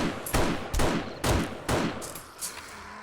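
Gunfire from a zombie-shooting video game comes in several loud, close bursts of shots roughly every half second, dying off toward the end with no talking.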